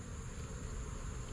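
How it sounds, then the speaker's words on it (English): Honey bees buzz steadily around an open hive during a routine backyard inspection, a dense, continuous hum at close range with no talk over it. "these bees have been working"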